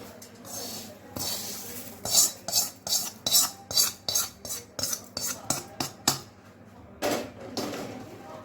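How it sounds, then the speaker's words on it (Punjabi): Homemade namkeen tossed with fried curry leaves in a kadai, a spoon scraping and clinking in a brisk run of about a dozen rhythmic strokes, close and clear with no talk. "ਇਹਨੂੰ ਹੁਣ ਅਸੀਂ ਚੰਗੀ ਤਰ੍ਹਾਂ ਮਿਕਸ ਕਰਨਾ ਹੈ ਜੀ"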